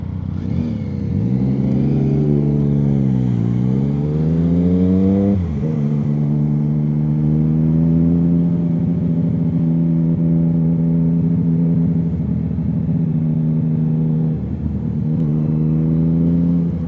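A Triumph Speed Triple motorcycle out on a road ride, its engine droning loud and close with several rising and falling revs as it accelerates and changes gear, and no talking.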